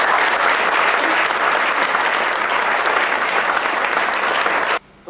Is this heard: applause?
yes